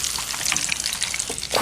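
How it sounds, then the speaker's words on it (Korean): Noodles fry in hot oil with a dense, crackling sizzle of close-up bubbling and popping throughout. "국수를 튀기니까"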